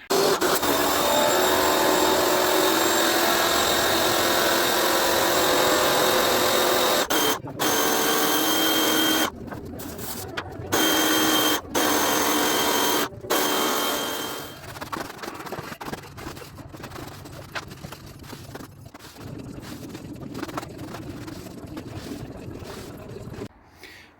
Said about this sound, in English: We're gonna power wash and then squeegee.